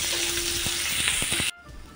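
Chopped onion fries in two spoonfuls of hot oil in a pan for misal pav, giving a steady loud sizzle with a few crackles that suddenly drops to a softer hiss.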